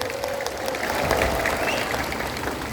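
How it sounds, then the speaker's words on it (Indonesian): Audience applause for the Archbishop of Pontianak at the closing ceremony of Rosary Month 2022 at Stella Maris Parish: steady, dense clapping from a crowd, sustained at an even level without a break. "tepuk tangan buat yang dimuliakan Uskup Agung"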